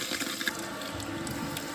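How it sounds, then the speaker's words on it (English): A toilet tank refilling after its water supply is reconnected, a steady close rush and hiss of water running without break. "I needed the water on a little bit more."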